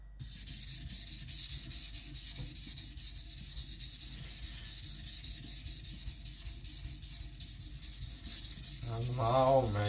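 A kiridashi knife is drawn back and forth over a sharpening stone under light pressure, giving soft, steady rubbing strokes at a low level, alone with no talk, and a louder scrape toward the end.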